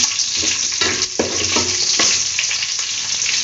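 Curry leaves sauté in hot oil for a tur dal sambar, a loud steady sizzle broken by sharp scraping strokes of a stirring spoon against the pan.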